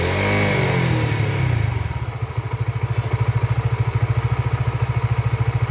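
A motorcycle engine, such as a Supra GTR, Sonic, CBR150 or CB150R, idling as it warms up during a radiator coolant change, starting with a brief rev and settling into a loud, close, steady, rhythmic idle putter.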